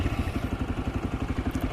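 A TVS Raider 125 motorcycle engine idles steadily after starting, its low, even, rapid putter running close and moderately loud with no other sounds.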